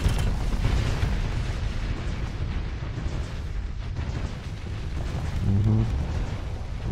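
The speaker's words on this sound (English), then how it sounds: "Fire all the missiles." Missiles fire and explode in the space combat game Starsector, a continuous heavy rumble of booms and blasts rolling through the whole stretch, with a louder burst near the end.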